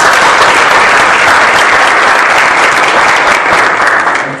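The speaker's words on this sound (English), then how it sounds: "Please give him big applause" Loud, dense audience applause for a speaker at an evening event, continuous clapping close and full from start to end, tapering slightly at the close.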